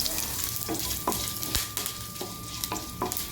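Onion, fenugreek seeds and curry leaves temper in hot oil for drumstick sambar, sizzling and crackling steadily in the pan while a spoon stirs, with scattered sharp pops close by and no talking.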